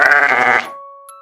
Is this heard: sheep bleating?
yes